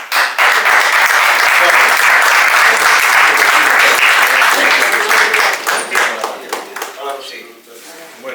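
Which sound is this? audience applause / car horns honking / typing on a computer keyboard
audience applause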